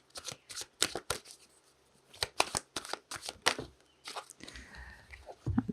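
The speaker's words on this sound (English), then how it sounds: "let's pull some cards for the connection, for the overall outcome" Tarot cards being shuffled and drawn from the deck, a series of quick crisp riffles and slaps in bursts with short pauses, close and fairly quiet, with no talking.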